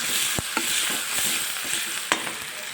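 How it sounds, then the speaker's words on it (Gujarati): Half a cup of onion fries in a pan while being stirred toward golden brown, a constant bright sizzle broken by a few sharp scrapes and knocks of the spoon against the pan. "હવે એને હું ગોલ્ડન બ્રાઉન સુધી હલાવી દઈશ"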